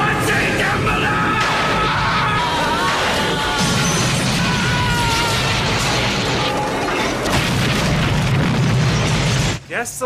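Lightning strikes a toy store in a movie and sets off a loud, chaotic sequence of bangs, crashes and clattering mechanisms that runs on for several seconds, with voices mixed in, then cuts off abruptly.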